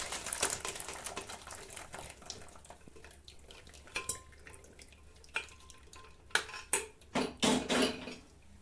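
Water is drained off boiled potatoes in a pot, with a quiet trickle and drips followed by several sharp metallic clanks and knocks of the pot and lid toward the end, no talk.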